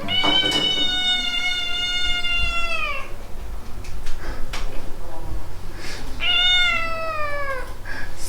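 Two long, drawn-out meows with a falling pitch from a Scottish cat, one at the start and another near the end, over faint background noise.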